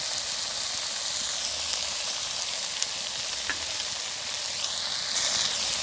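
Turmeric powder and ginger-cumin paste sizzle steadily in hot oil for a fish curry with ridge gourd and drumsticks, with a few soft scraping stirs under the constant hiss; no one speaks.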